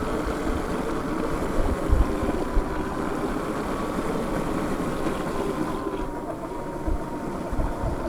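A Sur Ron Light Bee electric dirt bike rides along wet, slushy, muddy trails in Merrimack, with steady loud wind rush and a low rumble of tyres through slush throughout.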